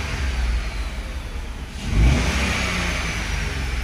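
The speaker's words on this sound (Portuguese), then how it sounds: "Vou acelerar, ó." A Renault engine, one of the Sandero, Clio, Logan, Duster or Kwid family that had trouble starting, idles steadily and then revs up hard around the midpoint before settling back to a higher hum, close and loud with no talk.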